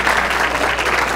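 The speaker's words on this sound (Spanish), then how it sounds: "Muy bien, fuerte el aplauso para el compañero." Brief burst of steady applause for a colleague at a professors' panel discussion on artificial intelligence in engineering education, continuous dense clapping at moderate volume.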